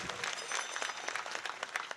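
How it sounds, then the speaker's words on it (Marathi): An audience at a live music event with mridangam breaks into brief applause, a dense flutter of hand claps at moderate distance that lasts a couple of seconds. "टाळी वाजवा एकदा आमच्या पंचाळकर"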